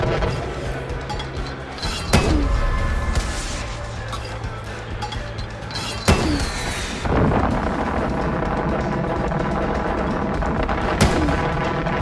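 Mortar fire in Far Cry 5, with heavy booming blasts at intervals over a dense, continuous din of game combat and clatter, loud and close.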